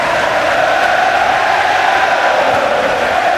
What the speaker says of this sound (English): Crowd bursting into song here.